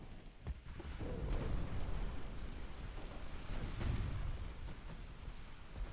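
A destroyer sinking in a naval battle in Ultimate Admiral Dreadnoughts: heavy booming explosions and rumbling, loud and sustained, with a couple of sharper blasts rolling over a low roar.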